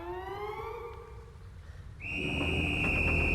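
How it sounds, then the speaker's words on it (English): A whistle on a mystery train sounds first as a falling, wavering multi-tone wail, then as a loud, steady, sustained high blast over rumbling background noise. "We gotta go blow this whistle."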